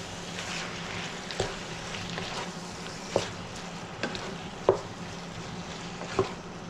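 Onion and yogurt stirred into chicken keema with beans in a pan at medium-low heat, quiet sizzling underneath with several sharp spoon taps and scrapes against the pan, close by.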